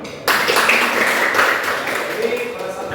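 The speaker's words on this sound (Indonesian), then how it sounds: "Tepuk tangan dulu." A classroom of students bursts into applause after a question in a group discussion lesson, a dense, steady patter of many hands starting abruptly and continuing throughout, with a murmur of voices underneath.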